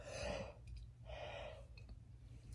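A woman's long, breathy yawn, heard close and quiet, two drawn-out exhalations separated by a short pause, with no speech.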